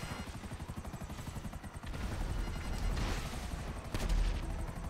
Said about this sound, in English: just this fucking attack helicopter shooting everybody